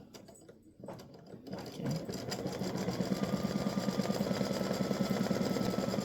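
An embroidery machine stitches a design in light blue thread, starting after a short pause and settling into a fast, steady mechanical rhythm close by, with one brief spoken word near the start.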